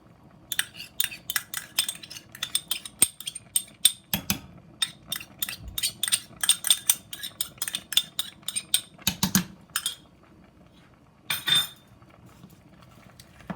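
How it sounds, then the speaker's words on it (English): Seafood, sweet potato and minced garlic stirred in a cooking pot, a long series of close, sharp utensil clinks and scrapes against the pot in an irregular rhythm, with brief pauses and no talking. "I'm going to stir that up."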